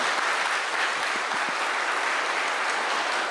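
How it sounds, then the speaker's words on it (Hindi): A crowd at a Brahma Kumaris gathering claps loudly and steadily, a dense unbroken wash of applause from near and far with no speech over it. "जोर से ताली बजाइए"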